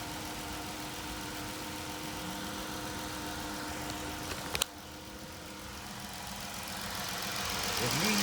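Dodge Challenger SXT engine just after a 180-degree thermostat install, idling low and steady with a brief sharp click partway through, a faint hum under it and the sound growing slightly louder toward the end.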